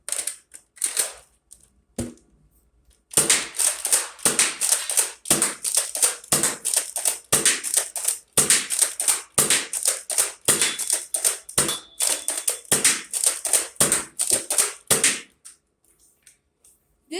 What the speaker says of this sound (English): first up, we're going to be firing some Nerf Elite darts